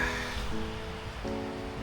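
Rain falling outdoors on a fishing trip, a soft steady patter and hiss under a faint low tonal hum, with no one talking.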